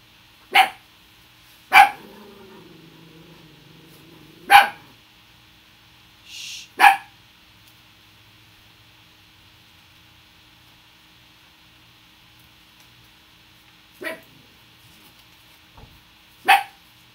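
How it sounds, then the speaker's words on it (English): A dog indoors barks in short separate bursts, a single sharp bark here and there with long quiet gaps between, fairly close, plus one softer yip partway through. "Dog hears our neighbor coming home and has to bark."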